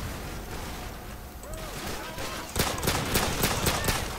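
Gunfire in the Call of Duty: Modern Warfare 3 video game, starting as scattered shots and then turning into a rapid, loud burst of repeated cracks in the second half, with a voice heard briefly.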